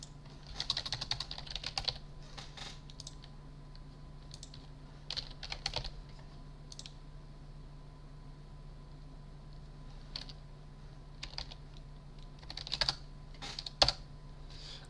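Keys clicking on a Grandma3 lighting console keyboard, short bursts of light taps and pauses over a faint steady hum, quiet and close.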